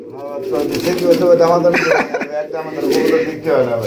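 White Bombay pigeons coo in soft repeated phrases close by, while people talk over them almost continuously.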